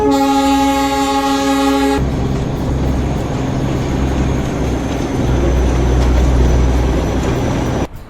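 A Darjeeling narrow-gauge toy train with a diesel engine sounds a loud, close horn blast for about two seconds, then its engine rumbles steadily as the wagons roll on under a constant drone.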